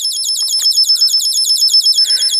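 An electronic bird-chirp sound generator driven by a Muvib chirps constantly, sounding as a rapid, evenly spaced series of bright, high-pitched tweets, loud and close with no pauses.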